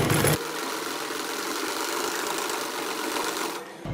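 A sewing machine runs steadily, stitching the fitting seam of a baby frock with a continuous close whirring buzz that stops abruptly at the end.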